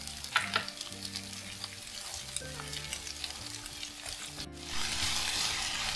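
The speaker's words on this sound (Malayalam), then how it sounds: "ഇനി അതിലേക്ക് കുറച്ച് ഉപ്പ് കൂടെ ചേർത്തിട്ട് നമുക്കത് നല്ലപോലെ ഒന്ന് വഴറ്റിയെടുക്കാം" Vegetables sauté with salt in a hot pan for chicken bonda filling, a steady close sizzle with scraping stirs, the frying hiss growing brighter and louder in the last second.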